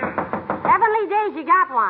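A quick series of knocks at the start, immediately followed by a person talking.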